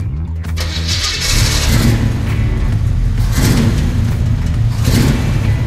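A 1968 Chevrolet Camaro convertible with a factory 3-speed automatic cranks and fires up, then settles into a loud, steady, close-up idle with a deep low rumble.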